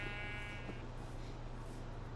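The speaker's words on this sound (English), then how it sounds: "By big guy, I mean sheep." A sheep in a video game gives a single short bleat at the start, followed by a steady background hum.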